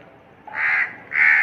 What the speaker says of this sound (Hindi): इधर कौवे चोंच मार रहे इसको काऊं काऊं काऊं करके